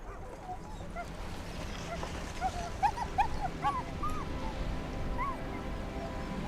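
Sled dogs on a Greenland expedition give scattered high yips and whimpers over a steady background rumble, the cries growing briefly more frequent in the middle.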